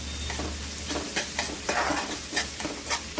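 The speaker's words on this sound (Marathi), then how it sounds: "कांदा नरम करून घेणार आहे छानपैकी तेलामध्ये." Onion frying in oil in a home kitchen, a steady sizzle with repeated scraping stir strokes across the pan, close and moderately loud, with a low hum underneath and no talking.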